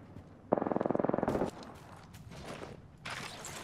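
A rapid automatic burst of gunfire in Apex Legends, about a dozen evenly spaced shots rattling for one second, followed by quieter scattered clatter and a second noisy burst near the end.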